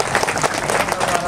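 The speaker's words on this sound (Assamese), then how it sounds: "তেওঁৰ কাৰণে এটা হাত চাপৰি।" An audience claps in a burst of applause at a motivational speaking event, dense and fairly loud throughout, with a voice faintly audible beneath the clapping.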